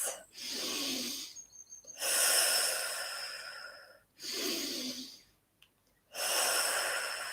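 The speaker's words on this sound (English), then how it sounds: "Taking 3 breaths." Three slow, deep breaths during a gentle yoga class held in Prana Mudra, each a long airy inhale and exhale, close and soft, separated by brief pauses.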